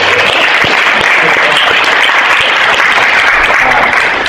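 Steady, dense applause from a seated audience fills the room after a sustainability showcase talk, continuous and fairly loud with scattered individual claps standing out throughout.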